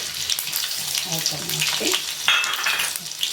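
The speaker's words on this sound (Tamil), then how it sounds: "இப்போது கடுகு உளுத்தம்பருப்பு சீரகம் காஞ்ச மிளகாய் எல்லாம் போட்டு" Mustard seeds, urad dal, cumin and dried red chillies fry in hot oil with a loud sizzle, stirring scrapes and small pops, while a voice speaks faintly in the background.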